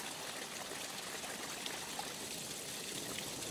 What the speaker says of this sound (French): Vous avez ici une mise en cascade qui vous donne une notion de paysage sonore.